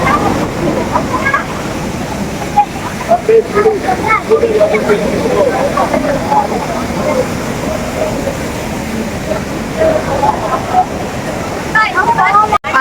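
A waterfall at Courtallam, the five-stream falls in Tenkasi on a crowded Sunday night, roars as a steady broadband rush, with voices and crowd chatter scattered over it.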